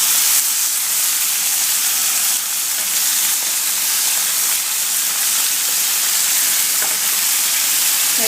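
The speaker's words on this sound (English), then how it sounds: "now I'm going to flip each piece of meat" Pieces of meat sizzle loudly in a pan on a stovetop right after being flipped, a dense, continuous hiss and crackle that stays up close and even throughout, with no talking.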